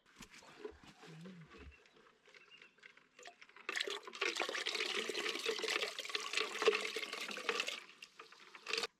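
Liquid fertilizer diluted with water is poured onto garden plants at an off-grid plot in Portugal. A few quiet scattered sounds come first, then a steady splashing pour lasts about four seconds before stopping.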